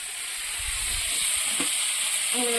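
Water poured into a hot frying pan with potatoes for a shol fish curry, a broad sizzling hiss throughout with a short low splash near the start and a brief bubbling burst toward the end.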